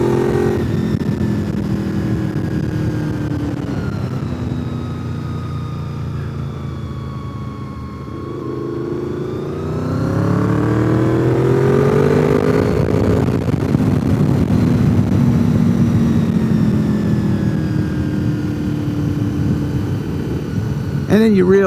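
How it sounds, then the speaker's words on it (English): An older Honda VFR motorcycle engine revs up and down close by, pitch rising and falling as it accelerates, droning continuously throughout. "The sound of the engine's just amazing."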